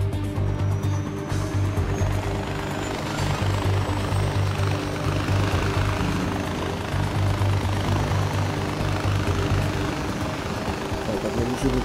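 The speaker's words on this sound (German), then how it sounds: "Da hat man einen Helikopter auch noch." Helicopter in the video game Far Cry 4, a steady loud rotor and engine drone holding throughout with low throbbing tones and broadband whine, fairly close and continuous.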